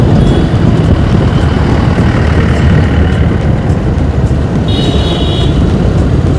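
Busy market street traffic at Anand Bazaar in Indore, India: a loud, constant rumble of idling and passing cars, trucks and other vehicles, with a brief horn-like tone in the background near the end.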